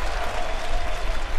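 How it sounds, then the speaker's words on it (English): A baseball stadium crowd gives the Toronto Blue Jays a Bronx cheer, a steady wash of broad crowd noise and scattered clapping heard from a distance, with no distinct voices standing out. "Bronx cheer for the Blue Jays."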